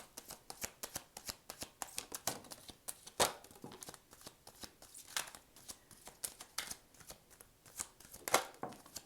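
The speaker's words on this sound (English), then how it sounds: "These cards are harder to shuffle because" A brand-new tarot deck being shuffled by hand, with rapid, irregular riffles and card flicks repeating throughout, close and fairly quiet, with no voices.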